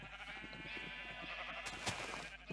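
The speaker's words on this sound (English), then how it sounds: "Right, I now have 2 blue sheep." Blue sheep bleating inside a shed survival video game, a few repeated bleats over a steady busy game soundscape, moderately loud and close.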